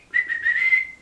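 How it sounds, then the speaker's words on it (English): One short whistled note from a person, steady and clear with a slight rise, lasting under a second and heard alone. "I can't do any other kind of whistle."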